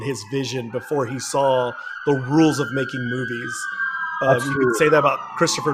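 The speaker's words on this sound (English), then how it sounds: "Sorry about the sirens." Police sirens passing outside, a wailing tone sweeping up and down in the background under continuous close conversational talk.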